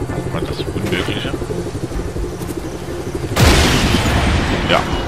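A loud explosion bursts on landing in the video game Just Cause 3, cutting through a steady engine drone and followed by a sustained roaring blast, with someone talking over it.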